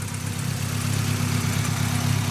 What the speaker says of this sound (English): It's idling. Engine's a bit shaky.